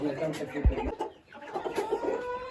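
Chicks chirp and cluck close by in a short burst, with a soft low thump partway through.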